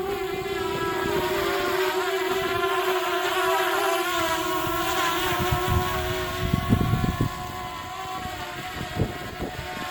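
DJI Mavic Air drone hovering in high winds, a steady high-pitched propeller whine with a strong wind roar and microphone buffeting throughout, rougher gusts near the middle.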